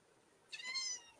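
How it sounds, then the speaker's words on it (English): A very young kitten gives a single short, thin meow halfway through, close but soft against a quiet room background. "Very sweet little kitten that I've had since Saturday."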